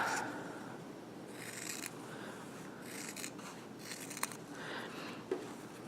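Scissors trimming a fabric seam allowance, a few soft snips and rustles of cloth against a steady background hiss, fairly quiet and with no talking.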